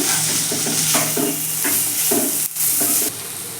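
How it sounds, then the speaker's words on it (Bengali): Banana flower curry with chickpeas and coconut is stirred in a hot pan, a loud continuous sizzle with repeated scraping spoon strokes in a steady rhythm, close up and without any speech. "এবার আমি ভালো করে মিশিয়ে নিচ্ছি"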